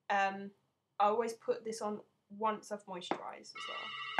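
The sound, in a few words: mobile phone ringing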